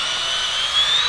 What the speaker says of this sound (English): taking the drill. And it goes through it really easily